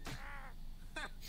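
A cartoon crow caws in two harsh, separate calls, the first drawn out and the second short, sounding close and clear with no talk over them.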